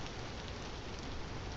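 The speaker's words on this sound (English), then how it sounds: "looks like it's cold and rainy out here in Vintage Story" Steady rain falls in the video game Vintage Story, an even, continuous hiss of drops at moderate loudness with no talking.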